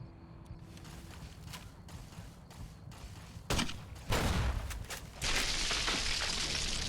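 Grenade explosions in the video game Fallout: New Vegas, with a loud blast near 3.5 seconds, another burst around 4 seconds and a sustained roaring boom from about 5 seconds onward, following quieter game ambience and clicks.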